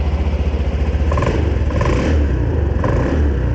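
A Honda ADV 350 scooter engine idling steadily and quietly nearby, a low even mechanical drone with a light clatter and slight rises in pitch, with no talking.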